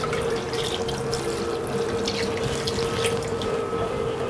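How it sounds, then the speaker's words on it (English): Four cups of beef stock poured into a pot with thyme and rosemary for red wine-braised short ribs, a steady close splashing stream running throughout. "And to finish it off, our 4 cups of beef stock."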